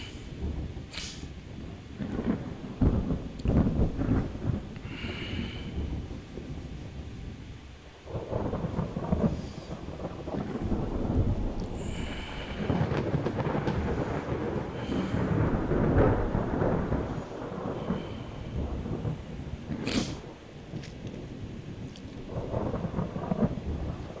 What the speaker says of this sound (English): none of us want to fight in a storm